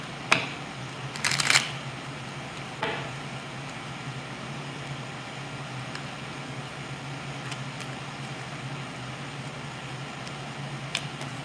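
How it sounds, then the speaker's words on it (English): Cards shuffled in a few quick riffling bursts near the start, then a quiet steady room hum with an occasional faint tap or flick. "I'm shuffling 2 more cards."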